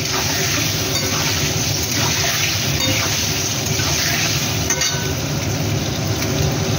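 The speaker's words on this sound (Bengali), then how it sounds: "একটু হালকা ভাজছি" Pieces of paneer sizzle in hot oil, a steady, loud, crackling hiss with no talking.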